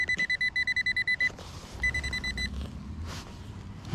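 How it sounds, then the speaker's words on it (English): A metal detector sweeping over a buried target in a backyard gives rapid, loud electronic beeps in two quick bursts, followed by rustling handling noise. "Got some beeping in there."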